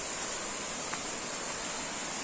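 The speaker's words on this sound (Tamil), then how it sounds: "அந்த அருவியை நாங்க கண்டுபிடிச்சிட்டோம் இந்த இருக்கு அந்த அருவி" A waterfall in an Eastern Ghats forest gives a steady, even hiss of falling water with no breaks, close and moderately loud.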